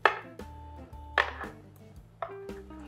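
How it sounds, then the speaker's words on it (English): A knife cuts through a baked cheesy hash brown casserole in a pan, giving a few distinct close chopping taps against the dish spaced about a second apart, with no talking. "we're just gonna go ahead and cut through here."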